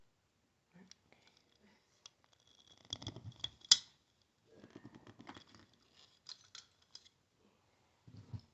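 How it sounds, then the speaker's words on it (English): A ratcheting PVC pipe cutter is worked down through a plastic pipe, giving a faint, irregular run of small clicks and crunching snips in a quiet room. "you just basically ratchet it down until it goes through the pipe and snips it like that"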